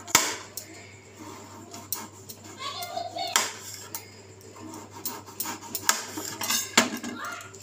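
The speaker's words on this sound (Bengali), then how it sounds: "এবার আমি আলুগুলোকে পাতলা পাতলা করে কেটে নেব।" A knife slicing potatoes thinly on a board for a butterfly chicken recipe, a series of irregular sharp taps and knocks with clattering kitchenware, mixed with someone speaking throughout.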